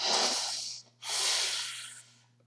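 A narrator voices a sniff imitating an old witch sniffing the air, two breathy nasal inhalations separated by a short pause, close and fairly soft, with no words spoken.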